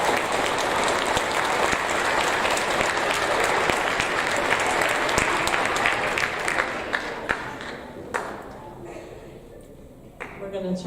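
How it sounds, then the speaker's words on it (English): An audience at a sixth-grade school awards ceremony applauds the students with a steady, full-room clatter of many hands that keeps going for several seconds and then tapers off into a few last claps. "Wonderful job, students. Let's give them a round of applause."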